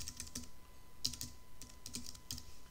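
A website address being typed on a computer keyboard: quick, light key clicks come in short bursts with small pauses between them, close and fairly quiet, with no talking.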